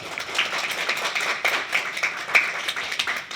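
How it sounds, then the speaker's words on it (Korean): A church congregation gives welcoming applause during a Sunday service, with scattered individual claps standing out over a moderate, uneven patter. "우리 환영의 박수 부탁드립니다."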